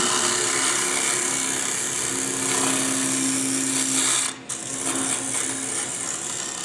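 Carbide turning tool hogging wood on a lathe while shaping a Christmas ornament, a steady whirring, scraping drone with a constant motor hum and no speech, holding level through most of the clip with one brief dip near the end.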